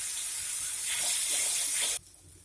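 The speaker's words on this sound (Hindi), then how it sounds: "अब हम इनमें थोड़ा थोड़ा पानी डाल के फ्राई करेंगे, एक साथ पूरा पानी ना डालें।" Water poured from a vessel into frying spices for a Bihari-style egg curry, a steady close splashing pour lasting about two seconds before cutting off abruptly into quiet kitchen background.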